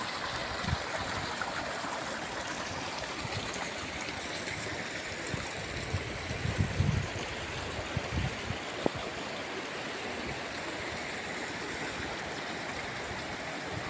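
Rain-swollen water rushes strongly through a channel during heavy monsoon rain, a continuous dense broadband roar with occasional splashes and knocks.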